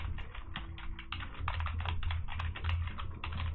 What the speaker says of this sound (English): I'm going to start typing